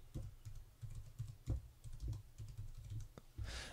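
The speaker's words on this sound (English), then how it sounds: "So I'll just type something out." Quiet, close typing on a computer keyboard: a run of irregular light key clicks with short pauses, ending in a slightly louder burst of keystrokes.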